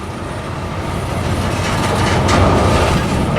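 A freight train carrying Union Pacific locomotive 4141, the George H.W. Bush unit, rolls past close by with a loud, steady roar and rumble that swells slightly, alone without talk.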